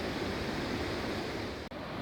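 Water streams steadily over broad, flat rocks at Nongwoljeong pavilion in Hamyang, a continuous close rushing wash that fills the whole span and dips briefly near the end.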